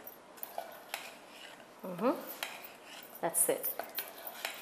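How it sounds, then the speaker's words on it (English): Almond brittle ingredients, roasted almonds and salt, are stirred together in a bowl, giving soft scrapes and clinks of a utensil against the dish, quiet and close, with a brief spoken remark. "mix everything together"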